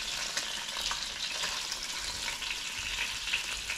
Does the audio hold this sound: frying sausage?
yes